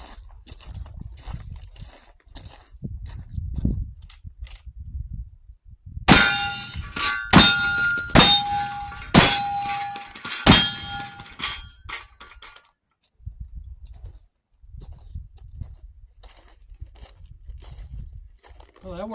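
An 1873 Winchester lever gun fires full 45 Colt blackpowder loads at steel knockdown targets: five sharp, loud shots in quick succession, each with a bright metallic ring from the struck steel. Quiet murmuring talk comes before and after.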